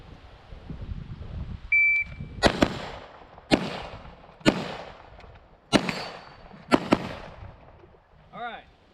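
Leadstar Grunt AR-15 rifle fired at targets and a plate rack, five sharp loud shots spaced about a second apart, each with a ringing tail, preceded by a short timer beep and followed by a faint warbling tone.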